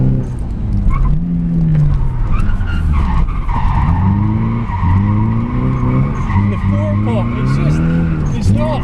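A street-legal Nissan 200SX S14 drifts with its engine revving hard, and its tires squeal and skid loudly and almost continuously, the revs rising and falling in repeated surges.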